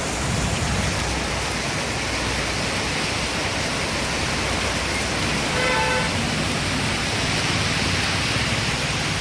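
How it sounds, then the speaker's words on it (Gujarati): Heavy monsoon downpour pounds steadily in a village, a dense, loud, even hiss of rain with no breaks. "ધોધમાર વરસાદ થયો છે મિત્રો મેંદડામાં વરસાદ છવ્વીસ તારીખનો"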